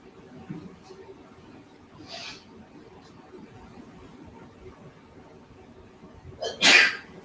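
A single sharp sneeze bursts out near the end of a quiet stretch during a math homework help session, close and fairly loud after faint background murmur.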